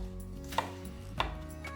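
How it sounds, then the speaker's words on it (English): Onion being chopped finely with a knife on a board, two sharp distinct knife strikes about half a second apart, close and clear over a quiet kitchen background. "sure that you chop it as fine as you really can"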